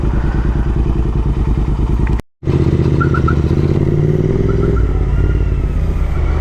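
Royal Enfield GT 650 motorcycles ride off together in a group of three. Their twin-cylinder engines give a loud, close, steady thrumming throb with a light clatter, broken once by a brief dropout.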